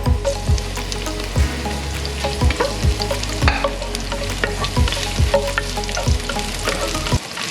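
Garlic sautés in a pan with ginger for chicken arroz caldo, a steady close sizzle broken by regular scraping stirs roughly every half second, loud and continuous with no talking.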